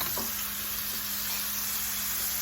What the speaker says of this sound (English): Kind of sauteing onions, peppers, potatoes. Now that those are getting nice and hot, I'm gonna add the beans.